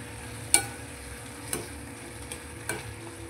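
Prawns with chopped tomato frying in a tawa, a soft continuous sizzle punctuated by four sharp spatula taps at roughly one-second intervals.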